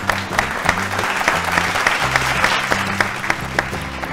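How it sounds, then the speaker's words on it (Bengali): Studio audience applause on the Bengali family game show Sera Paribar, loud, dense clapping close by that carries on steadily throughout, with background music underneath. "দুজনের জন্য জোরে হাততালি।"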